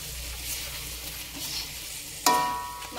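Sliced spring onions stir-frying with spicy sweet meatballs in a pan, a steady close sizzle with a sharper burst of frying as they go in near the end.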